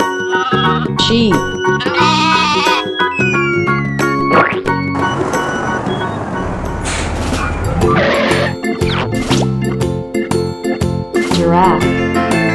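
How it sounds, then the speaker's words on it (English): A sheep bleats among a busy mix of toy sounds and jingling music, with loud wavering bleats and other animal calls layered over chiming electronic tones. "Sheep."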